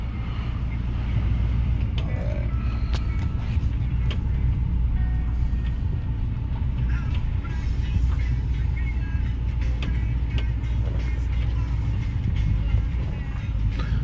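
A 2006 Toyota Tundra SR5 pickup with a 4.7L V8, two-wheel drive and 183,000 miles, idling and rolling out with a steady low engine rumble that holds even and close throughout.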